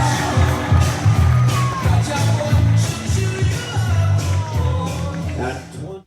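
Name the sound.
rodeo crowd cheering a barrel racer home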